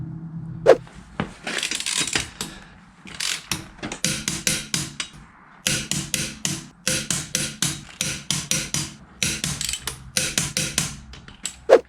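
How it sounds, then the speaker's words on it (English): Wheel bolts being tightened on a Vauxhall Vivaro van after the wheel goes back on: rapid metallic ratcheting bursts in repeated runs, separated by brief pauses and clanks, close and loud, with no voices. "Just got to stick the wheel back on, take it off the jack, and then torque the wheel bolts up."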